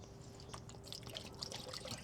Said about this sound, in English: I'm just gonna put some water in this block